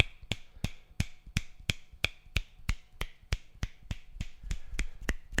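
A microphone's pattern selector switch on a Hill Audio Concept 200 setup is clicked round repeatedly, producing sharp, evenly spaced close clicks in a steady rhythm of about three per second.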